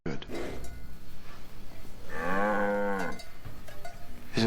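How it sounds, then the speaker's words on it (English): A cow moos once, a long, loud, drawn-out low call in the middle of the clip, with indoor room sounds and brief noises before and after it. "Is it a cow?"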